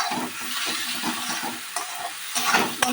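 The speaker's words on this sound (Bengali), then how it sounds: "বন্ধুরা মশলাটাকে আরও কিছুক্ষণ কষবো যতক্ষণ না এর থেকে তেলটা ছেড়ে আসছে।" A black spice paste cooks in hot oil for a mung dal and drumstick recipe, with a steady loud sizzle and rhythmic scraping strokes of stirring, close up, with no voices.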